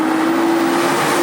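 A Toyota Supra MK4 fitted with a dual-clutch gearbox pulls hard in second gear, its engine holding a steady, loud drone throughout the short stretch with no talk over it.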